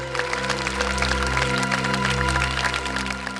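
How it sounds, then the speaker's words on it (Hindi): An audience applauds in dense, continuous clapping at fairly high volume, layered over a steady low background hum. "तालियां!"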